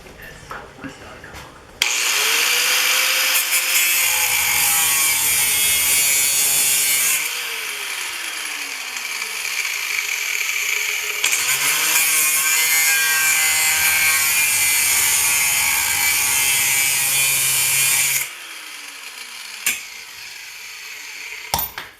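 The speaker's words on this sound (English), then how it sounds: "We're going to go ahead and cut the handle off now" A saw cuts steadily through a wooden handle while making a pickaroon, a loud, sustained grinding rasp that runs for long stretches with a brief pause midway and stops near the end.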